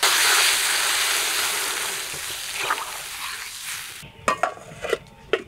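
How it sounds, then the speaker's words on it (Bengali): Fried spices and potatoes for a baim fish curry sizzle loudly and steadily in a pan, then the hiss drops away near the end and a few sharp utensil clinks and scrapes follow. "এবার ঝোলের জল দেব।"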